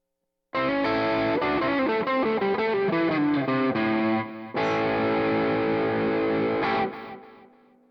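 Slightly driven Telecaster-style electric guitar on the neck pickup in coil split picks a quick phrase of notes, then strikes a chord that sustains and dies away at the end.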